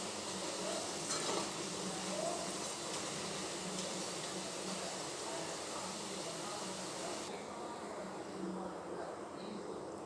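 Cabbage pakoda deep-frying in hot oil gives a steady, even sizzle that runs throughout at a low level, with a voice talking over it.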